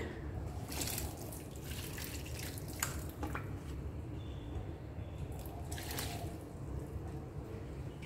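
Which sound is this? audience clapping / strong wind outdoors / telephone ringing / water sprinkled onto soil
water sprinkled onto soil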